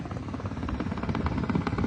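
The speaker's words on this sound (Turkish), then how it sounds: "Helikopter geldi." A helicopter arriving in a video game: rotor thumps and engine drone fill the clip at steady volume, with busy low-end rumble throughout.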